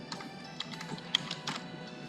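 A password being typed on a computer keyboard, heard as a quick, uneven run of faint, light key clicks close by in a quiet room.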